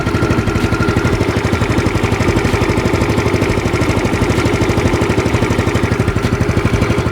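An old motorcycle engine idles throughout an oil flush, a loud, close, steady rhythmic chugging with even pulses and no talk.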